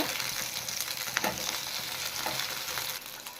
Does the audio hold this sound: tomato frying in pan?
yes